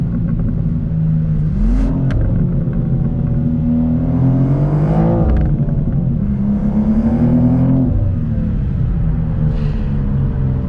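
A twin-turbo inline-six in a G87 BMW M2 revs up and down inside the car. The engine drone is steady and loud, with rising and falling sweeps, and no one talks.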